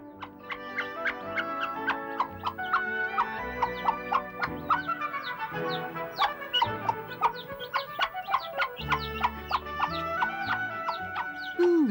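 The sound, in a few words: hen and chicks clucking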